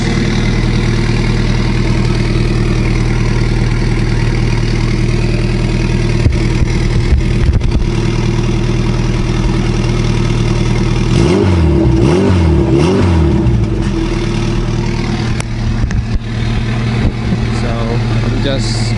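A Honda Accord engine idles steadily and loudly nearby, then revs up in a few quick bursts before settling back to a rumbling idle.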